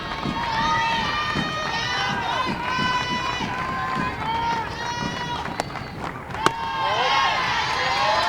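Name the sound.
Missouri softball fans applauding and cheering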